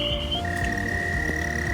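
Frogs croak steadily at night in a chorus of overlapping calls, with repeated low pulsing croaks layered under thin, sustained higher trills, close and fairly loud throughout.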